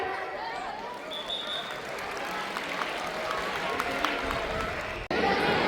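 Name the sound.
applause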